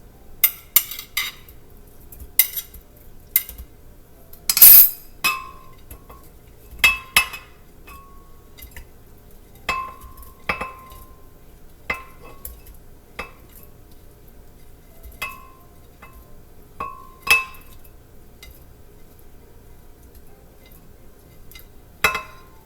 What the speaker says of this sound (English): now I'm ready to proceed by putting my ingredients into my blender